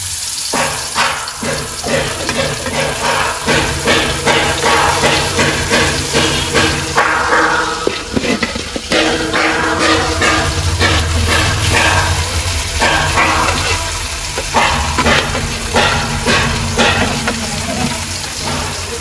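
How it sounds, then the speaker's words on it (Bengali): Fish frying in hot oil in a kadai, a loud continuous sizzle with crackling pops throughout, close and with no talking over it. "তেল গরম হয়ে গেছে, আর মাছ ভাজা বসাই দেবো"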